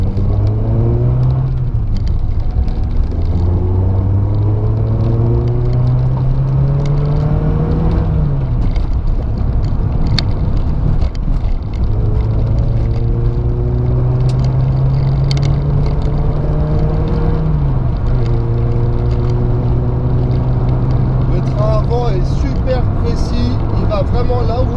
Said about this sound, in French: je vous laisse écouter un peu le bruit du moteur